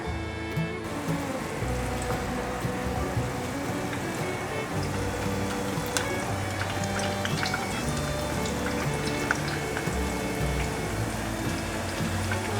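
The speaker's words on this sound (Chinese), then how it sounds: "油热了，把南瓜放进来炸。" Pumpkin pieces deep-frying in plenty of hot oil in a home vegan kitchen, a steady, dense bubbling crackle that runs close and unbroken throughout, with no talking.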